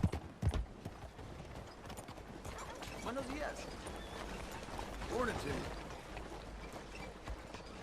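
Horse hooves clip-clopping in a video game story mode, soft and fairly faint in irregular steps, with someone talking over them.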